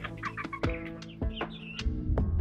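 Backyard chickens cluck and call in a steady run of short, fairly close vocalizations, several birds overlapping with sharper squawks rising above a low background hum.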